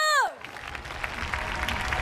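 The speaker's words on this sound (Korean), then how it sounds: "여러분들의 박수와 함성으로" Concert audience at a Korean adult-contemporary pop show breaking into steady applause and cheering after a singer's voice fades out, a dense crowd roar sustained to the end.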